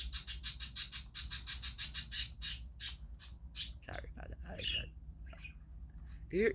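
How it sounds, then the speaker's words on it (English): A bird chirps and squawks in quick repeated bursts, fairly close, while a person speaks briefly partway through. "If you're hearing some bird chirping, that's my bird."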